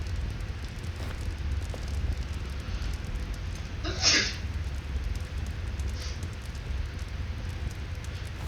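A single short sneeze at mid-clip, fairly quiet against a steady low background hum, with no talking around it.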